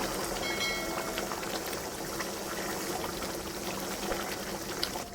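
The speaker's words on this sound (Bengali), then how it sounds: "এবারে কষা হয়ে গেছে, আমি জল দিয়ে দিচ্ছি।" Water is poured into a pan of simmering onion egg curry, a steady bubbling, boiling wash at moderate distance with no talking.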